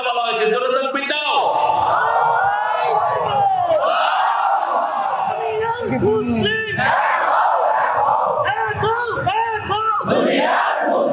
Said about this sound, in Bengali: জোরে তাকবীর দাও